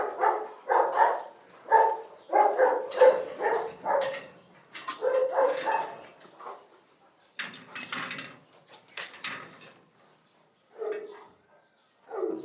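A large dog named Bulldozer gives a run of close, fairly loud barks in quick bursts, pausing briefly, then a few more barks and yelps toward the end, in an otherwise quiet space.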